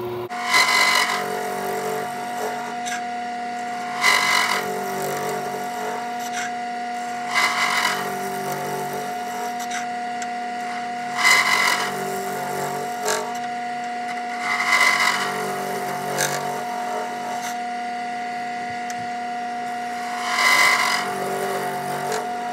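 A lathe spins steadily while a Monarch kit pen blank is turned down toward the bushing, with a sustained motor hum and periodic bursts of cutting every few seconds.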